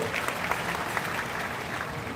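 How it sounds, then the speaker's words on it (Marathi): A crowd at the 375th Sant Tukaram amrit mahotsav celebration breaks into loud, sustained applause, thick and even clapping from many people that fills the whole stretch. "जरा सर्वांनी जोरदार टाळ्या वाजवल्या"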